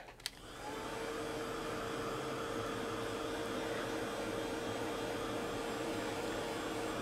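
A heat tool or dryer switches on to dry ink on a craft tag, giving a steady, loud, close whooshing blow with a faint whine that holds evenly without pause after a short click at the start.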